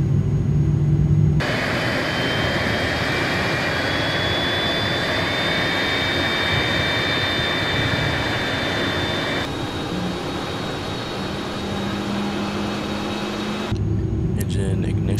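The jet engine of a UPS A300F cargo plane in Microsoft Flight Simulator spools up after fuel is introduced, a loud sustained roar with a rising whine that holds steady and then drops away near the end.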